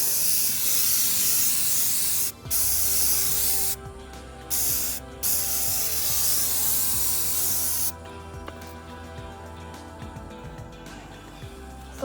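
Long, steady hiss of an aerosol spray paint can, close up, spraying over glue on a craft cone, broken by a few short pauses before a quieter, shorter spray near the end.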